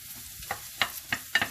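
A utensil stirs food frying in a pan for Christmas rouladen and spaetzle, giving a few soft scraping strokes over a low steady sizzle, close and quiet.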